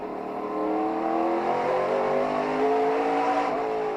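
Race cars run on a short 3/8 mile oval at the Menards 250. A steady, loud, droning engine whine rises and shifts slightly in pitch as the cars keep going, with no talking.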